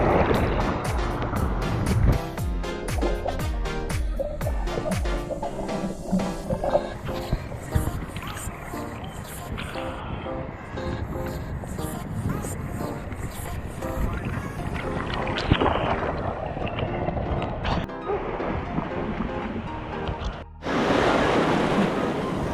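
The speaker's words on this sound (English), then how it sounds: "the waves are like super small" Small, choppy ocean waves wash and break steadily around a surfer paddling in the sea off Boca Raton, with splashy, close water sounds and some wind buffeting throughout.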